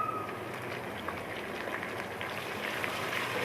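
Onions with garlic paste and ginger paste fry in a pan, giving a steady soft bubbling sizzle with fine crackles throughout.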